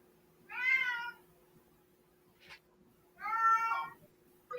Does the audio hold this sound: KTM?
no